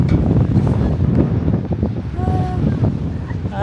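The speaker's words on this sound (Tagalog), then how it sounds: "Sarap ng hangin." Strong wind buffets the microphone in gusty, rumbling bursts in Busan, Korea, with faint voices under it and a brief tonal whine midway.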